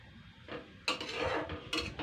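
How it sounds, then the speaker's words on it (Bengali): Greens being stirred in a pot for a Bengali shak dish, with a spoon scraping and clattering against the metal in a few close bursts of rustling and clinking. "কুন্তিতে একটু নাড়াচাড়া করে নেবো এই শাকটা"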